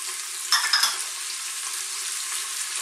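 Chunky garlic, ginger and cumin seeds dropped into hot oil in a pot, giving a steady close sizzle with a brief louder crackle burst as they hit, then an even frying hiss.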